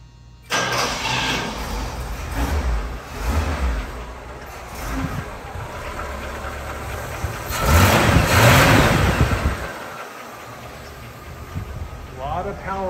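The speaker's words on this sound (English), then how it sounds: "we just turn the key in the ignition" A 1976 Cadillac Eldorado convertible engine cranks and catches, revs briefly, then settles into a steady, quiet idle, with a voice talking over parts of it.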